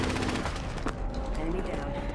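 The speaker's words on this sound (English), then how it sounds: "Get shot at." Automatic weapon fire in the battle-royale shooter Apex Legends, 2019, a dense, loud burst of rapid shots running throughout alongside game sounds and a brief radio-style voice line.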